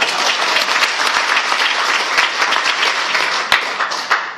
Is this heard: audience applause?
yes